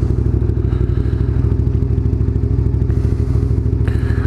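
Motorcycle engine idling while it warms up on a chilly day, a loud, steady, rapid low-pitched thrum with even pulsing, close and continuous throughout, with no talking.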